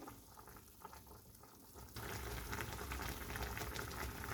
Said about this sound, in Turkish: Dolmalarımız pişmeye devam ediyor.